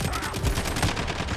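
Rapid automatic fire from a SCAR rifle in the Modern Warfare video game, a loud, steady stream of closely spaced shots in one sustained burst.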